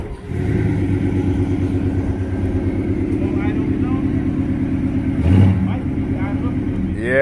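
A Box Chevy car engine with a questionable carburetor idles and revs steadily as it warms up, a continuous loud mid-range rumble with a brief surge of throttle near the end, while people talk over it.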